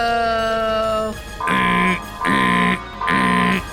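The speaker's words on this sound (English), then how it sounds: "one of them pulls an alarm on the wall." An alarm pulled from a wall near a vault sounds off, first as a steady electronic tone, then as three loud, evenly spaced pulsing blasts with no voices.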